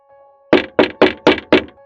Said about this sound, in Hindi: तभी अचानक मॉर्ग के दरवाजे में से ठक ठक आवाज आने लगा